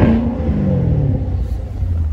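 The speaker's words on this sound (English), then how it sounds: "with the sport and with all four open, you get an excellent sounding exhaust note" A Corvette Grand Sport 2LT with its exhaust valves open gives a deep, loud rev that eases from a strong surge into a steady rumbling throb, close by with no talk over it.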